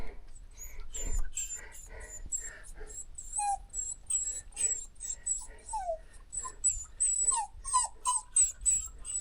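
A dog whimpers on a high mountain trek in Ladakh, giving a string of short, thin, high-pitched whines in irregular bursts, fairly close and soft against quiet breathing and light rustling.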